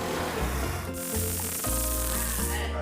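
A loud, continuous Axe deodorant aerosol spray hisses close up, over a busy tonal background.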